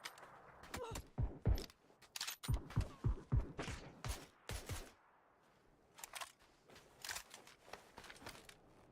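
Mortar shells firing and exploding in a multiplayer shooter video game, a rapid series of sharp thumps and bursts in the first five seconds, then sparser, fainter blasts.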